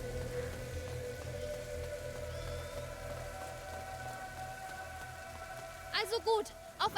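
Steady storm rain in the video game A Plague Tale: Innocence, a constant hiss of rainfall under faint game sounds, with a brief burst of voices near the end.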